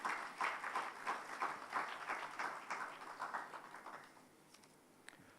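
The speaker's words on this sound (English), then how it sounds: "another round of applause to the award giving ceremony" Applause from an award ceremony audience in a plenary room, a steady patter of many hands at moderate distance that thins and fades out toward the end.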